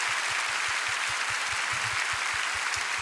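A congregation at a church prayer service applauds steadily, a dense wash of clapping with a faint rhythmic thump underneath.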